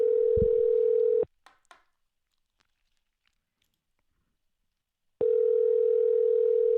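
Ringback tone of an outgoing phone call waiting to be answered, a steady loud tone lasting about a second, then near silence with faint clicks, then the tone returning, close and alone.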